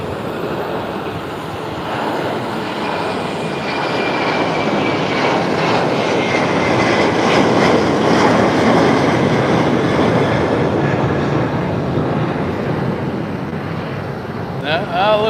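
An airplane passing overhead, probably on approach to land, a loud broad engine roar that swells and slowly fades over several seconds, with voices briefly in the background.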